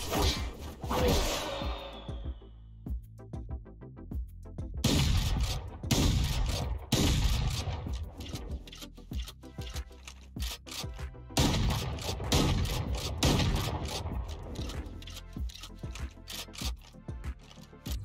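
The Radiant Crisis Bucky gun in a video game fires in rapid volleys of sharp cracking shots with whooshing, rattling effects, loud bursts broken by short pauses and no voices.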